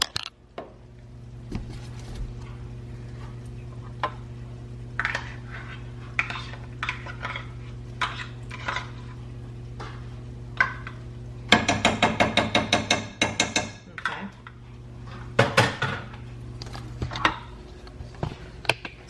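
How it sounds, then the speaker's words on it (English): A utensil scraping and tapping around the edges of a pot to gather homemade sloppy joe barbecue sauce, irregular close clinks and scrapes with a quick burst of rapid knocks partway through. "I am going to scrape out the edges so that we can get all of that barbecue sauce in there."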